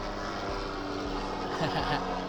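A helicopter flies overhead in a city neighbourhood, a steady low droning rumble with faint rotor pulsing that rises slightly near the end, heard at moderate distance without speech.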